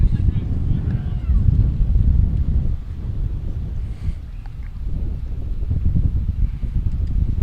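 Steady low rumble of wind buffeting the microphone at a high school varsity baseball game, continuous and fairly loud throughout, with faint background voices.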